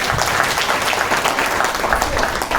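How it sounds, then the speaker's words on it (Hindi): Dense, continuous applause from a large audience at a devotional Jagannath Yatra 2023 gathering, loud and sustained across the whole moment with no voices above it. "जोरदार तालियां आप लोगों के लिए"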